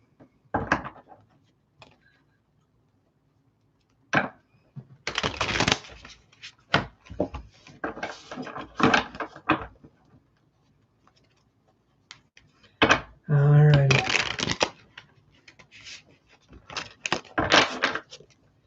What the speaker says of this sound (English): let's shuffle these ones